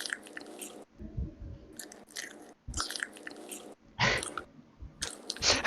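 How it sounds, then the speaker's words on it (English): Someone bites and chews crisp lettuce in close, repeated bursts of crunching and squishing separated by brief pauses, with no talking. "Eat the lettuce."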